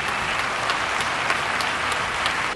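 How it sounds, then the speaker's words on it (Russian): Audience at a charity foundation's 2023 year-end event applauds steadily, a dense, close wash of clapping that carries evenly through the whole moment with no talk over it. "Ваши аплодисменты, друзья."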